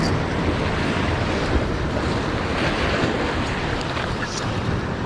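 Ocean surf washes onto the shore in a steady, loud roar, with wind buffeting the microphone throughout and no clear speech.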